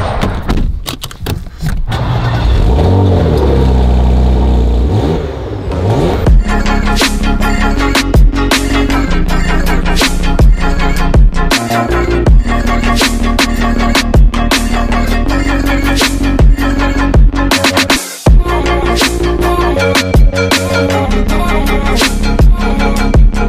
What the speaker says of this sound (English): Enter the Macan Turbo.